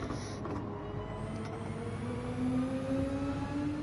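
A GT3 race car engine in the video game Gran Turismo 7 revs with a rising whine that climbs smoothly over a low rumble, moderately quiet and heard alone.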